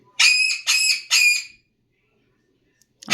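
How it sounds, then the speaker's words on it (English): Pet parrot screaming in three loud, harsh, piercing calls in quick succession, close by, followed by silence. "Who can guess why Lyra's screaming right now"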